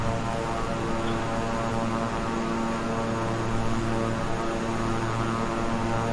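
Twin-engine Beechcraft King Air 350i turboprop in flight simulation, a steady droning propeller hum with tonal engine harmonics, continuous and even throughout, no voices.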